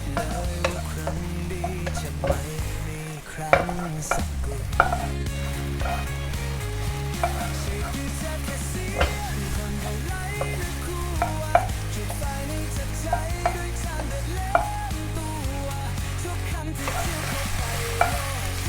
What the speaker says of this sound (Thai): เสร็จแล้วเราก็ใส่ตัวเห็ดได้เลยนะครับ ตัวเห็ดเนี่ยค่อนข้างจะสุกง่ายนะครับ